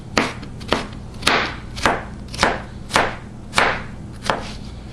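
Potatoes pushed through a cuber for soup, eight sharp rhythmic chopping strokes about every half second, each a crisp thunk with a short rasp, close and clear.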